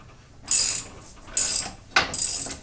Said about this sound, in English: Now we can switch back to a ratchet and make quick work of this.